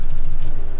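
A computer keyboard is typed on in a quick, even run of close, crisp key clicks lasting under a second, with no talking.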